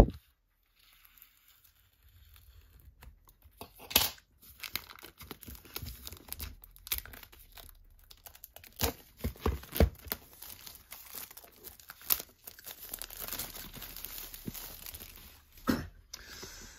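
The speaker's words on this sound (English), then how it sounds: "Just get the scissors to just rip open the shrink wrap" Scissors rip open plastic shrink wrap on a steelbook box, crinkling and tearing with sharp rips and rustling crackles that grow busier and continue steadily at close range.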